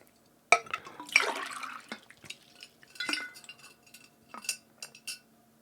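Water poured into a glass or cup at a desk, with a sharp clink of glass at the start followed by bursts of trickling liquid and a few softer clinks, close and fairly quiet, no talking.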